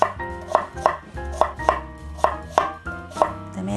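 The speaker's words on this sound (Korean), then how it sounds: "배도 한 번씩 이렇게 잘라주세요." A knife chops through a peeled pear on a cutting board, about ten crisp, evenly spaced strokes in a steady rhythm, close and clear.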